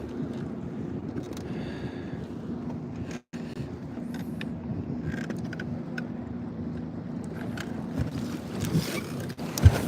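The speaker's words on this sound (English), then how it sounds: "Can you guys see these waves coming in?" Waves from a large passing wake slap steadily against a bass fishing boat out on the water, a continuous choppy wash with wind rumble across the mic and a sharper splash near the end.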